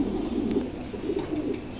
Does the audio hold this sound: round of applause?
no